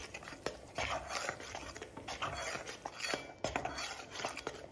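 Semolina (rava sooji) is stirred and roasted in a pan, producing repeated scraping strokes and light metallic clinks of a spoon against the pan in an irregular, close rhythm.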